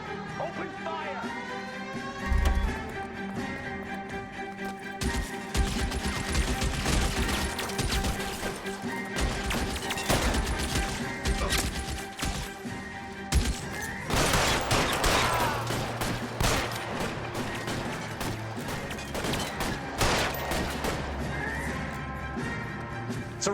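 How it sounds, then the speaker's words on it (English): Gunfire rattles through a shootout in the L.A. Noire video game on Xbox One, sharp bursts and cracks layered with game music and shouted voices, loud and dense with a heavier barrage in the middle. "Open fire!"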